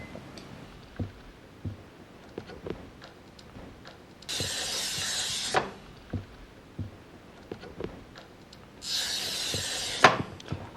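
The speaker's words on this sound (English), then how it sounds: "I'm listening to the sound of the glass cutter to adjust the pressure I'm using." A glass cutter scores strips of glass in two sustained gritty hisses, each lasting about a second, separated by light taps and handling clicks on the work surface.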